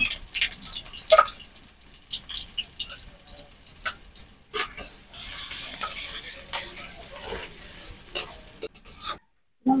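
Onion and garlic frying in hot oil in a wok for a pumpkin-leaf and Malabar spinach dish, with stirring scrapes and crackling bursts, steady sizzle building through the middle and near clinks of a spatula.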